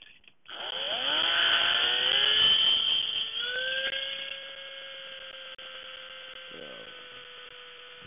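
A handheld electric drill runs with its loose bit spinning in a poorly tightened chuck, a loud whirring motor winding up in pitch, then settling into a steady, slightly quieter drone.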